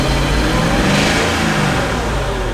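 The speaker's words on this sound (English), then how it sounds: "So let's see what happens when we rev it up." A damaged Mercedes AMG SUV engine revs loudly and close up, holding a rough, sustained roar for a couple of seconds with no voices over it.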